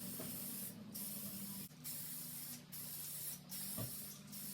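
An aerosol can sprays tint coat onto car tail lights in about five short hissing bursts with brief gaps between them, fairly close and steady, outdoors and with no talking.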